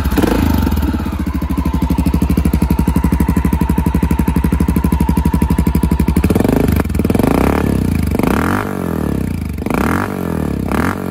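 A Honda FMX 650 converted into a cafe racer idles close by with a steady, loud, rapid thumping beat, then blips its throttle into several rising revs before settling again.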